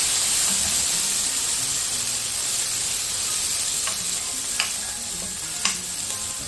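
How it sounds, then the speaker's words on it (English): Spring onions and chopped garlic fry in a pan, giving a continuous sizzle and hiss with stirring and a few sharp utensil clicks near the end. "Next, we will add the spring onions and the chopped garlic. Give it a good stir."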